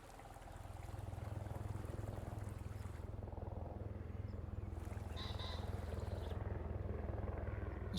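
Steady water ambience in a farming video game, a continuous low wash with a trickling, flowing texture that holds fairly level throughout with no talk over it.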